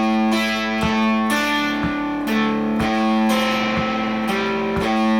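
Electric guitar plays a riff as a lesson exercise, with steady repeated picked notes ringing alone in an even rhythm, moderately loud and close.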